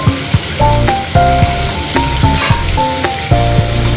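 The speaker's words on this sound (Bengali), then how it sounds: "হালকা করে জাস্ট ভেজে" Hilsa fish lightly frying in hot oil, giving a loud, close crackling sizzle with intermittent scrapes and clinks from turning the pieces, and no speech.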